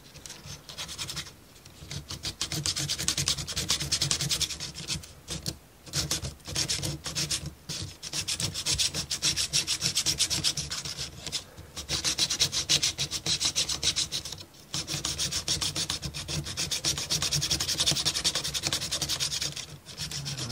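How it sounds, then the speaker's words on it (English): Continuous hand sanding on a wooden marble run, a rough rasping scrape in back-and-forth strokes with brief pauses between passes. "Okay, so I need to do some sanding."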